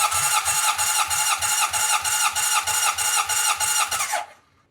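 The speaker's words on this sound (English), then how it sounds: "let me pin the throttle. We'll do number 1 and see what the compression is on this." An engine cranks over steadily for a cylinder compression test with the throttle pinned, giving a fast, even chugging rhythm of roughly a dozen compression pulses before it stops abruptly near the end, loud and close with no talking.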